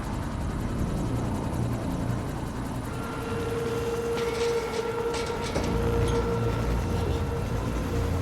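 A helicopter in the video game Quantum Break hovers close by as a loud, continuous rotor and engine drone, with a steady whine and scattered game effects layered over it, no talking.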